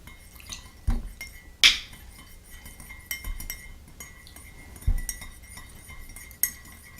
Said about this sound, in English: And give that a little stir and see what it's like in the tea.